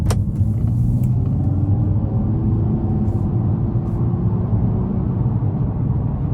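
A 2021 Nissan Maxima SR driving on a road at night, a steady low engine and road rumble with tire noise continuing evenly throughout, close and fairly loud, with no talking.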